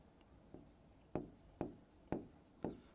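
Pen or chalk writing out an equation during a maths lesson: faint, rhythmic scratchy strokes, about five distinct taps and scrapes spaced roughly half a second apart, quiet and close.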